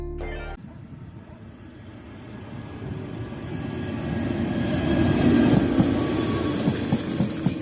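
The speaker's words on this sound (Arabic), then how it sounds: "قطار البراق الفائق السرعة TGV لأول مرة في مراكش" Al Boraq TGV high-speed train on ordinary track at low speed in Marrakech, a steady rumble of wheels and rolling stock that grows louder as it passes close by, with a thin high whine above it.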